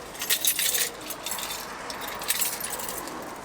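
A bunch of keys jangling and clinking as they are rummaged for, close and bright, with a busy burst early on and lighter rattles after, no talk.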